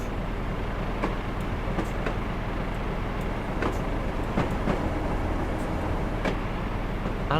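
Continuous rumbling of a Northern Trans-Pennine train in Train Simulator Classic on the 1980s Huddersfield Line, with scattered clicks and clunks over the steady noise and no talk.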